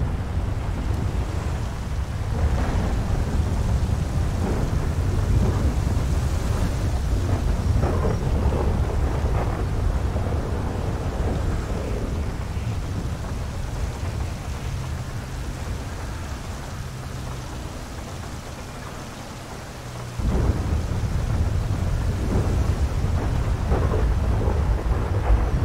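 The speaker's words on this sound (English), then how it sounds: "Yeah, the lightning and thunder looks amazing." A thunderstorm in the GTA 5 video game brings deep, rolling thunder rumbles over a steady hiss of rain, with a louder crack of thunder near the end.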